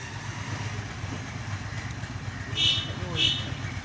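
A motorboat engine chugs low and steadily throughout at moderate distance on the Balu River in Dhaka, with two brief high-pitched squeaks near the end.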